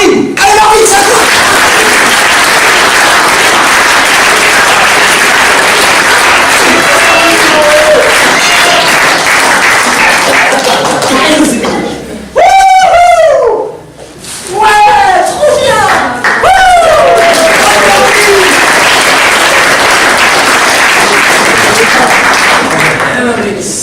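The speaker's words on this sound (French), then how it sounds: "On applaudit tous Marvin." Sustained applause and clapping from a live audience at a French comedy show, loud and dense, briefly broken by shouted cheers and a voice before the clapping resumes.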